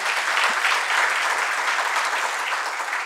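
An audience at an author-meet event claps vigorously in a dense, sustained burst of applause that stays even and loud from start to finish.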